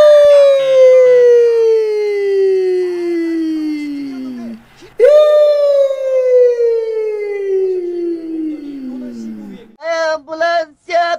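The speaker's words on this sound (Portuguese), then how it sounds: "Ambulância besta!" A wailing siren sweeps down in pitch in two long, loud, close cycles, heard during an eFootball match. Clipped electronic bursts follow near the end.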